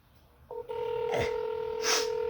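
Telephone dialing tones as an office number is called: a steady two-tone keypad beep holds for nearly two seconds, close and clear, with faint rustling behind.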